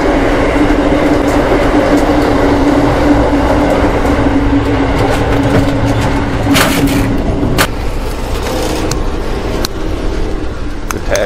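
Between two Amtrak Silver Star train cars, a loud, steady roar of rolling wheels and rattling couplings continues throughout, with sharp clacks and bangs breaking through near the end.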